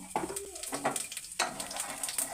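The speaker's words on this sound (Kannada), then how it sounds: "ಈ ಎಣ್ಣೆ ಬಿಸಿ ಆಗಬೇಕು ಒಂದು ಅರ್ಧ ಚಮಚ ಆಗುವಷ್ಟು ಜೀರಿಗೆ ಹಾಕೊಳ್ತಾ ಇದ್ದೀನಿ" Cumin seeds dropped into hot refined oil in a cooker give a steady crackling sizzle, with sharper spitting bursts near the start and again midway, close by and alone.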